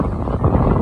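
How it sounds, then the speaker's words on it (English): Wind buffeting the microphone on Pendine beach in the evening, a steady low rumbling roar with no other sound over it. "The wind has dropped off a bit from what it was."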